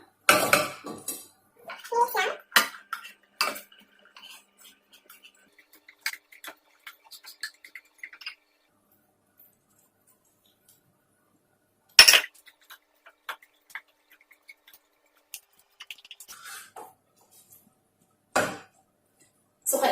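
Cooked sushi rice being mixed in a bowl, with sparse clinks and scrapes of a utensil against the dish separated by long quiet gaps, close and fairly faint.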